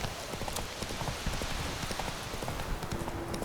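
Hooves of Roach, the horse in The Witcher 3, clip-clopping in a steady rapid rhythm over a dense background hiss, close and fairly loud throughout.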